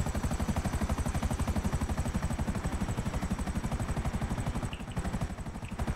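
Two helicopters in Grand Theft Auto Online thump with a steady, loud rotor beat throughout, joined by bursts of gunfire.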